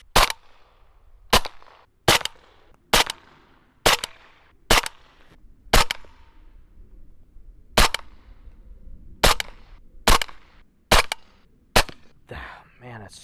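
A Q Honey Badger 5.56 pistol fires about fifteen sharp, loud single shots at irregular intervals of roughly a second, each crack followed by a short echoing tail, with a brief rustle at the end.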